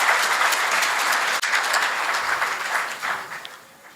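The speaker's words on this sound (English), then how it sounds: "Please applaud all the graduates." Sustained applause from a graduation ceremony audience honouring graduates, dense steady clapping that continues throughout and slowly tapers toward the end.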